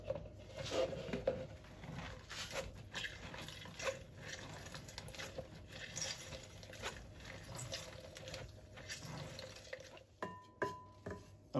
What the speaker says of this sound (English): I'm gonna cut my oranges and I'm gonna juice them through a strainer